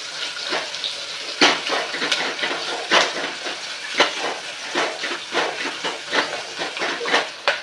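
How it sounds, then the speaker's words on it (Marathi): Chopped onion with chillies frying in a pan for a one-pot veg masala pulav, giving a steady close sizzle and hiss with crackling pops throughout. "बघा, आपला कांदा आता फ्राय झालेला आहे।"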